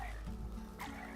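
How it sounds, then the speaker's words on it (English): Frogs croak in the Hypixel SkyBlock video game, two short throaty croaks sitting over a steady low background hum, fairly quiet and with no talk. "Bro, the frogs especially are so loud."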